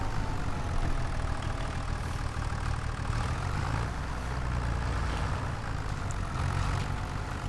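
Tractor engine idling in the farming game Farming Simulator 25, a steady low diesel rumble with a faint mechanical clatter on top, continuous and fairly quiet throughout, with no voices.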